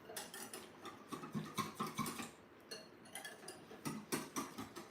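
Chia seeds and coconut milk being whisked in a bowl, producing quick rhythmic bursts of scraping and light metallic clinking, close by and fairly soft, pausing briefly midway.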